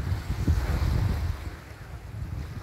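Rough sea waves surge and wash around a boat, with a low rumbling roar and wind buffeting the microphone, loud and continuous with no talking.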